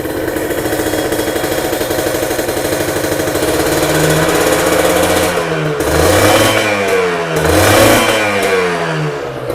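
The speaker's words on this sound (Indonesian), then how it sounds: "Ini untuk suara motornya" Kawasaki Ninja R motorcycle with a stock engine, freshly replaced reed valve petals and clutch plates, idling with a loud rattly clatter before two rising revs swell and fall back, close up with no talk.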